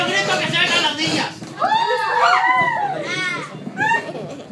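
At a clown's children's party, a group of girls shrieks and shouts together in a loud, excited burst, their high-pitched voices rising and falling close by after the host's prompting.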